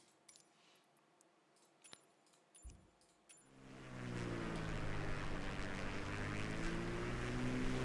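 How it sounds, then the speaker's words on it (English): Strong wind roars around an aircraft in Microsoft Flight Simulator 2020, swelling into a loud, steady rush with an engine drone after a few quiet clicks and taps. "Oh, that's a really strong wind."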